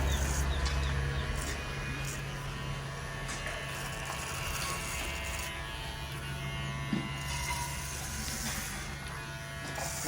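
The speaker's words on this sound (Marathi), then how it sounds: "दाढी वगैरे कट करू आणि आंघोळीला घे." An electric trimmer buzzes steadily close by as it cuts a man's beard, a continuous droning hum that changes little over the whole stretch.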